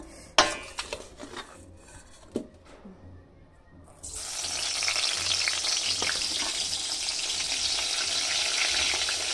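Eggplant slices, coated with sugar, go one by one into hot oil, with a few clatters of utensils before a loud, steady sizzle takes over and continues without a pause. No one speaks.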